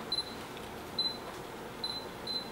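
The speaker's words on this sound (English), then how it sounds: "I have autofocus on it." Faint, brief whirring bursts of a lens autofocus motor driven through a Metabones EF to E-mount adapter, recurring several times in a quiet room with no talk.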